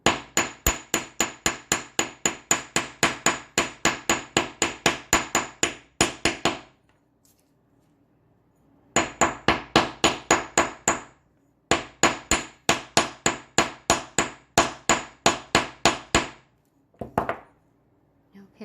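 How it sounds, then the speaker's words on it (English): The flat face of a hammer strikes wire earrings to work-harden them, making rapid, even metallic taps in several bursts with short pauses between. "We're just doing the flat part of our hammer. And I'm just going to work harden it into shape."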